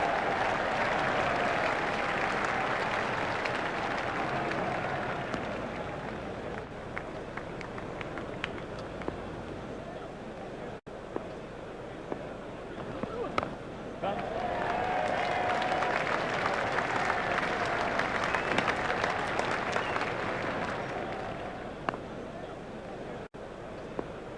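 A large crowd at a Bombay cricket stadium, during an India versus Australia one-day match, fills the air with sustained applause and cheering that swells, dips briefly and surges again, with faint voices mixed in.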